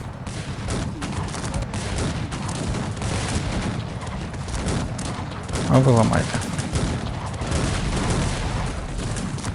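Rapid, dense gunfire crackles continuously through a battle in Cossacks 3, with a heavier boom partway through, while someone speaks over it.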